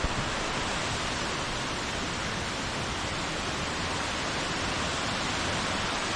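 Khlong Lan waterfall in rainy season pours with a continuous broadband roar, loud and even from start to finish, with no speech over the crashing water.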